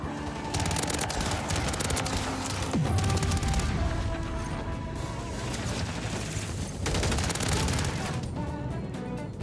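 Dense, sustained automatic gunfire in the shooter Call of Duty: Modern Warfare III, rapid overlapping bursts with crashes and booms, loud and continuous from start to finish.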